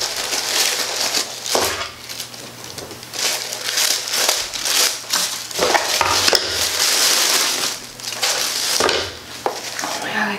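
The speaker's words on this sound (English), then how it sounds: "I'm starting to take the tissue paper off" Tissue paper crinkles and rustles as it is pulled off the contents of a self-care unboxing package, close and crisp, in irregular bursts across several seconds.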